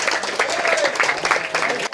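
Audience applause at a Ganesh Puja award ceremony in Dum Dum, a dense, steady burst of clapping over two seconds with faint crowd voices mixed underneath.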